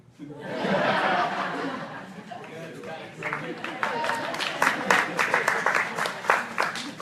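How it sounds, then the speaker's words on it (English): Audience applause at a Zika roundtable meeting in Orlando, a burst of clapping with some chuckling rising under a voice, moderately loud and room-filling. "You're the only one that gets applause."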